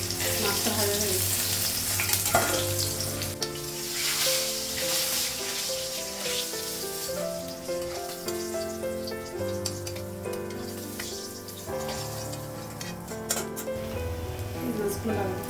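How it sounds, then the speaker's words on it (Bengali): Fish sizzling in a kadai over a lowered gas flame: a steady, close frying hiss that runs the whole time, with a tonal musical backing underneath. "গ্যাসটা কমানো, মাছটা ভাজা হয়ে গেছে"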